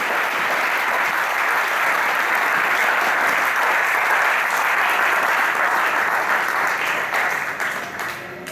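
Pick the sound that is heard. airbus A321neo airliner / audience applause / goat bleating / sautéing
audience applause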